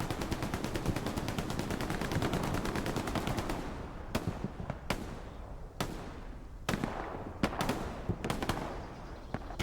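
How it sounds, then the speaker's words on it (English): Rapid automatic gunfire rattles densely in a competitive video game match, then gives way to separate sharp blasts and grenade explosions with brief gaps between them, loud and continuous throughout. "Grenades, guys. Grenades. Lots and lots of grenades."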